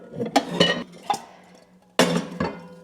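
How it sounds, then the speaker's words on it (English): Metal pots and pans clank and clink as they are handled and stacked in a home kitchen, several sharp knocks in irregular bursts with a short quiet gap midway, close and alone. "let me get all my pots and pans situated"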